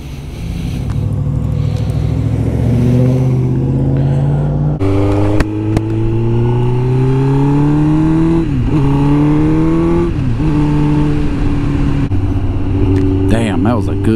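A 2005 Suzuki GSX-R1000 K5 sport bike ridden on the road, its engine note loud and close, rising in pitch through the gears with brief dips at shifts, steady wind roar underneath and no talking.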